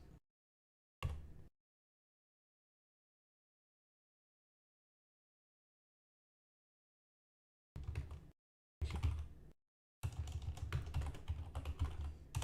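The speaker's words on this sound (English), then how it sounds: "I'm a fast typer, aren't I?" Rapid typing on a computer keyboard comes in short separate bursts of dense, fast key clatter with long silent stretches between them, ending in a longer busy run of clicks.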